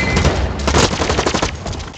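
Rapid bursts of automatic gunfire crackle through a competitive shooter scrim match, dense overlapping shots filling the full two seconds at close range, with no talk.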